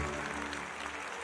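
Steady applause fills a concert hall after an orchestral performance, a dense, even wash of clapping from a large audience heard at moderate distance, without any voices.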